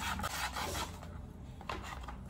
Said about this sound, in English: So I'm just filing that part where I'm going to be putting the heel